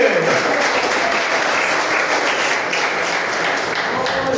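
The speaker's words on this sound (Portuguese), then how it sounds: "Então, as palmas bem alegre, bem alegre, bem alegre." Lively clapping from a church congregation, a loud dense patter of many hands that keeps going steadily and evenly throughout, with no voices standing out above it.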